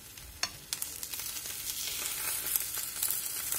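An egg sizzles and crackles steadily in a nonstick pan, a close, continuous frying hiss with small pops and a few light scraping clicks, no voices.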